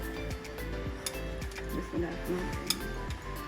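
Onion, potato and boiled chickpeas for Karachi-style chana chaat are mixed in a metal bowl, giving steady light clinks and scrapes throughout over a constant background hum, with a voice faintly present underneath.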